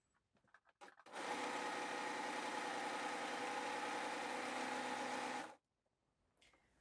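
An overlocker sews the raw edges of a stretch velvet seam in one steady, fast, even run of about four and a half seconds, close and loud. Short handling clicks come before and after it in an otherwise quiet room.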